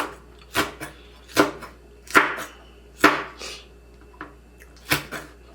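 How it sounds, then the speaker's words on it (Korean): Green chili peppers are sliced with a knife on a cutting board, making six distinct, crisp chopping thuds at a fairly even, unhurried pace, close and clear against a quiet background. "청고추도 5개만 썰어서 넣어주겠습니다."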